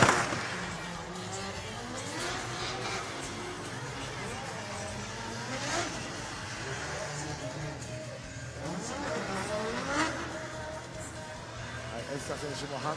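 A drift car warms its front tyres with the steering at full lock at the FIA Intercontinental Drifting Cup, engine revs sweeping up and down repeatedly with sharp bursts, heard at a distance beneath continuous commentary and crowd murmur.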